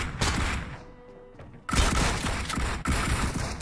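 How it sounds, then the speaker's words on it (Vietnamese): Gunfire in PUBG Mobile: heavy, loud volleys of shots come in two bursts separated by a quieter lull, with booming impacts and no voices. "Ba thằng nó bắn em mày ơi"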